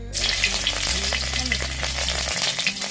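Dry red chilli and green chillies frying in hot oil for a village-style Bengali chorchori, giving a loud, steady close sizzle with crackling pops and light stirring throughout, no voices.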